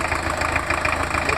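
A 1982 Volkswagen Kombi turbo diesel engine idles nearby with a steady, slightly knocking mid-low rumble and a regular pulsing rhythm, heard alone without talk.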